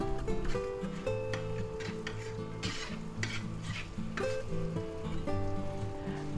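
Flour mixture cooking in a pan for a creamy garlic butter pasta sizzles and scrapes softly as it is stirred, under steady music, with occasional utensil scrapes standing out.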